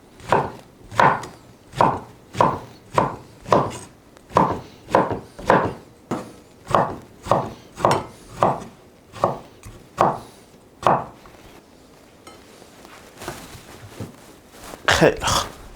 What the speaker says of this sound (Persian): بریم بادمجونامون رو خورد